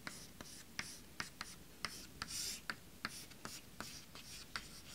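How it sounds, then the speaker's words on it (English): A formula written by hand, with a steady series of soft, scratchy pen or marker strokes tapping and sliding across a surface, quiet and close, with no talking. "I write this formula."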